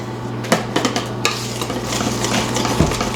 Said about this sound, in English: All right, mix this up, just whisk it for about 2 minutes